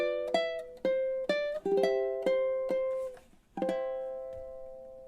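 Ukulele picking out the chorus of a song, with bright ringing harmonics over plucked notes in a steady rhythm, a short pause near the end before a final ringing note, close and clear with no talking.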